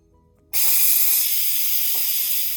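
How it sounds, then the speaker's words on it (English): An Instant Pot's pressure valve bursts open after a short quiet moment, releasing a loud, steady, hissing rush of steam from a pot of corned beef and vegetables that continues unbroken to the end. "to release the pressure, I'm just going to push the pressure valve and step away"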